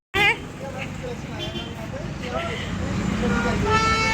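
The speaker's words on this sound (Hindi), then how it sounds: "हॉर्न बजेगा" A scooty horn gives a short sharp toot at the start, followed by street traffic noise with people talking over it.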